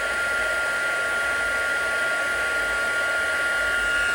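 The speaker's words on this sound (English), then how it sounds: "Now we'll take our heat tool." A heat embossing tool blows a steady stream of hot air to melt embossing powder, a continuous close hairdryer-like whoosh with no break throughout.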